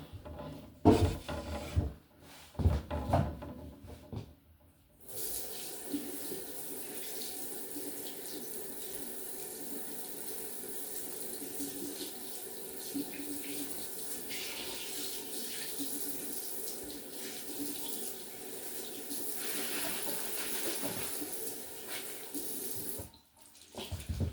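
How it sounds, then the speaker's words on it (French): Tap water pours steadily into a sink during rinsing, a constant close hiss of running water lasting about twenty seconds after a few clattering handling knocks at the start, with no talk. "Je vais rincer tout ça."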